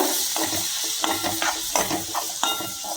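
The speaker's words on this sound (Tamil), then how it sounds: "இதை அப்படியே கலரி கொடுத்துக்க வேண்டியதான்" Hot kadarangai pickle stirred in a pan that is still warm after the stove is switched off, with a soft sizzle and repeated close scraping strokes of the spoon, no talking.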